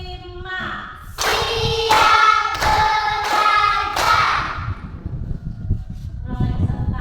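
Children in a classroom counting game clap hands together about five times at a steady beat, each clap landing with voices chanting in unison, followed by quieter chatter.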